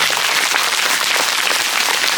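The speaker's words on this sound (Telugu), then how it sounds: "ఈ బ్యూటిఫుల్ ప్లేస్కి గట్టిగా క్లాస్." Audience clapping loudly and steadily in a dense, continuous wash of applause at a school meditation gathering, with no break for the whole stretch.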